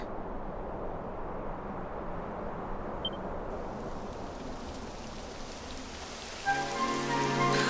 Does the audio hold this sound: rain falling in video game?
yes